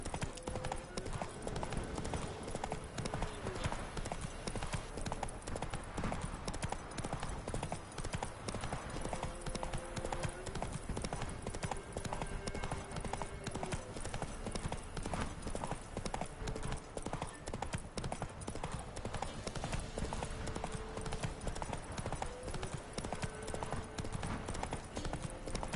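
Rapid, continuous hoofbeats from the horse Roach galloping in The Witcher 3, a dense steady rhythm lasting throughout at moderate loudness, with music and occasional voices underneath.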